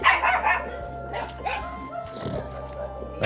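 A dog barks and yips in short bursts, fairly faint and at some distance, over a steady background hum.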